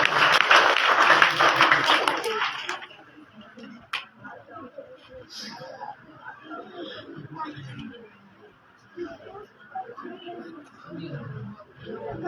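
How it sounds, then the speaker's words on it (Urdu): An audience at a student prize-giving claps for a third-place winner in a short burst that fades after a couple of seconds, followed by quieter room noise and scattered sounds. "محمد احمد تالیاں ہو جائیں اس بچے واسطے"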